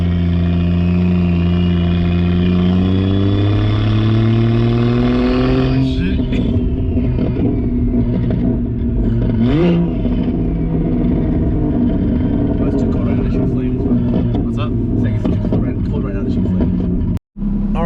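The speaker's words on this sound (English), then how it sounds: "we finally got the car running" A big-turbo BMW 335 engine idles loudly up close with rising and falling whine as it revs, then settles into a rough steady run while someone talks over it.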